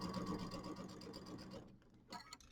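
A sewing machine stitching a quarter-inch seam on mini quilt blocks, running in a steady rapid mechanical whir that stops briefly before a short restart.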